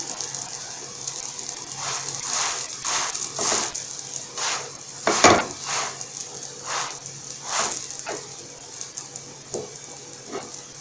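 Msemen, a layered Moroccan flatbread, frying in a pan: a steady hiss of oil with bursts of sizzling and crackles every second or so, and one louder pop near the middle.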